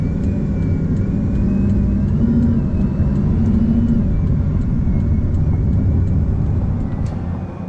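Bugatti Veyron hypercar engine heard from inside the cabin while driving on the road, a loud steady low drone with a faint whine that holds level throughout.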